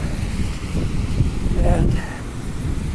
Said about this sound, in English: We're getting quite a bit of wind.